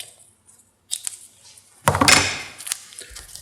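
A strip of masking tape ripped off for mounting a print: a couple of faint clicks and handling noises, then one close, rasping tear that fades into softer rustling.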